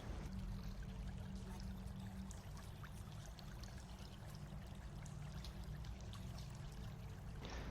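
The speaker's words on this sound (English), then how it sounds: "It's rushing water. I think there's a river up ahead." Rushing river water somewhere ahead, a continuous broadband roar and gurgle that holds steady and fairly loud without any voices over it.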